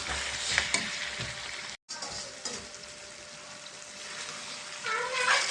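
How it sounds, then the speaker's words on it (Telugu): Cauliflower and potato curry sizzles in a pan while a spoon stirs it, a steady close frying hiss with scraping strokes and a brief cutout near the middle. "మనం మొత్తం అంతా కూడా కలిసేంతవరకు వరకు ఒక్కసారి కలుపుకున్నాం"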